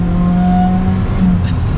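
A late-1980s car with 81,000 miles revs hard toward 6,500 RPM, its engine note loud, steady and close for a couple of seconds with a sustained high-pitched drone and no speech.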